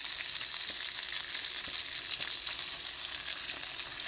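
Chicken fries in a shallow layer of oil in a pan for chicken Alfredo, producing a steady, close sizzle with light crackling and occasional soft pops, heard alone without speech.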